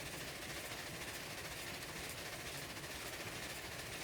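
A steam train with a wood tender runs in the Railroads Online video game, giving a steady, continuous rumble and hiss of rolling wheels that holds at an even level throughout, with no talk.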